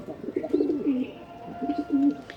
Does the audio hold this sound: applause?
no